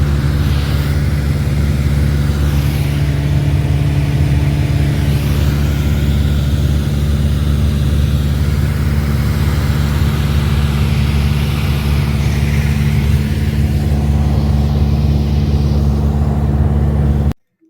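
Inside the cockpit of a light aircraft, the engine and propeller drone loud and unbroken for the whole stretch, a dense steady roar with no audible voices, cutting off abruptly at the end.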